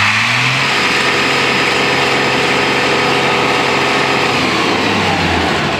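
A diesel engine holds steady at about 2500 RPM, a loud continuous close-up drone with a gritty mechanical roar and a slight pitch wobble throughout.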